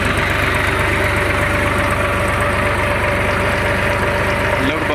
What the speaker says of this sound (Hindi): 750 या 800 RPM पे चल रहा है ट्रैक्टर